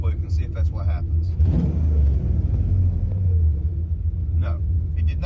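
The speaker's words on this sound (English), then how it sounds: "let me just blip this throttle real quick and see if that's what happens." A car running Holley EFI idles with a deep, steady rumble, and a quick throttle blip briefly lifts the engine note before it settles back; someone talks over it throughout.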